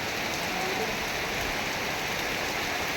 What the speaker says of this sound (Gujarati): આ રતન મહાલની તળેટીમાં ખૂબ સુંદર વરસાદ થતો જોવા મળી રહ્યો છે